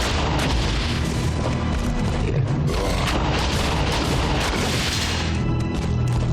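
Undead flayers exploding in the Diablo II video game, a dense, loud barrage of booming blasts and crashing bursts that overlap continuously without pause.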